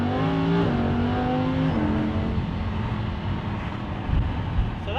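Lamborghini Huracan with a custom exhaust in Strada mode, its engine note rising in pitch through the first two seconds, then settling into a steady rumble with a small blip near the end.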